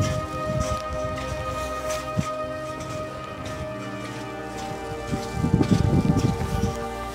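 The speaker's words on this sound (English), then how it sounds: "It's not a lot, but it's raining." Light rain falling at the Perito Moreno glacier in Argentina, a steady soft patter with scattered drops and a few louder bursts of splashing near the end, with no talk.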